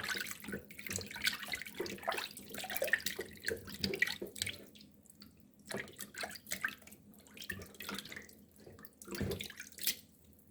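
Running tap water splashes in a sink as raw chicken drumsticks are rinsed in water mixed with vinegar, with steady trickling and intermittent louder sloshes and handling sounds close by, no talking.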